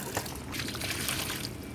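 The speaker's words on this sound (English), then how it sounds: "So we're going to throw this water away now" Colored wash water is tipped out of a tub, a short burst of splashing and trickling liquid heard close by.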